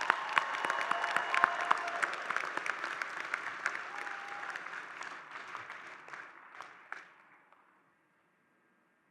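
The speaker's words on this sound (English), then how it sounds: "another round of applause for these guys" A graduation ceremony audience claps for new graduates, dense and steady at first, then thinning out and fading to silence near the end.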